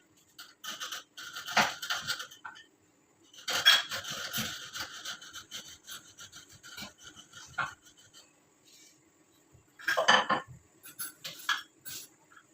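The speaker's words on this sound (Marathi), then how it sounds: "ज्या मी वेलची गरम करून ठेवल्या होत्या त्या मी आता इथेच त्यावरती बारीक करून घेत आहे." Warmed green cardamom pods are crushed under a rolling pin in a home kitchen, giving irregular clusters of close, crunchy rasping and grinding bursts with short pauses between them.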